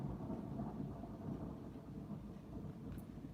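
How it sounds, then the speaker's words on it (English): Thunder rumbles low and continuous during a storm, a distant rolling roar that swells and fades slightly without pause and carries no talk. "Hope you guys heard the thunder."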